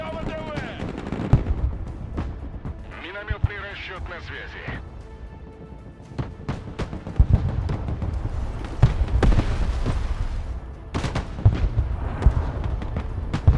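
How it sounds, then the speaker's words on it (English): Enemy artillery and mortar fire in the real-time war game Broken Arrow, with repeated sharp blasts and rumbling booms scattered across the whole stretch, heavier and denser in the second half, over a continuous battlefield din. "Big problem is the enemy artillery here"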